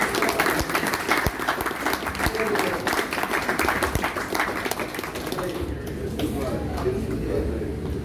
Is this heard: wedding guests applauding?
yes